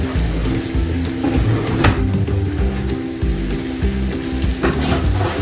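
Onions sizzling and frying in a pan while cooking butter chicken sauce, a loud steady crackling hiss with a low bubbling undertone, close and continuous.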